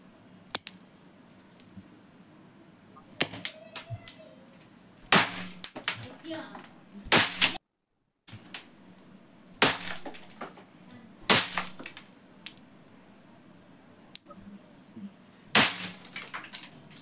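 Sharp, loud bangs from pop-pop firecrackers burst at irregular intervals, several cracking close by with brief crackly tails, separated by quieter outdoor background.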